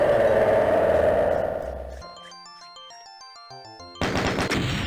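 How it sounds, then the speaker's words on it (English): In Doom 2 on the Starport map, a barrel explodes with a loud, dense roar of blasts that fades, then gives way to bright electronic end-of-level tones and a sudden loud burst of noise. "We're going to get a barrel explosion finish."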